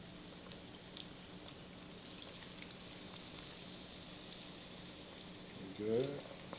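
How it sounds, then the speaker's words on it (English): Chicken pieces frying in oil inside a fryer basket, a steady close crackling and bubbling sizzle that runs throughout with a brief louder surge near the end. "I'm doing it this way so it won't stick. It won't stick to the bottom of the basket."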